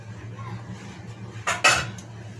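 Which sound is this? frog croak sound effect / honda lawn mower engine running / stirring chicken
stirring chicken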